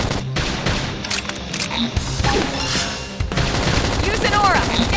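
Gunfire in the sci-fi video game Xenoblade Chronicles X: Definitive Edition, with dense bursts of automatic shots and booming impacts layered over a loud battle soundscape, with character voices calling out between shots.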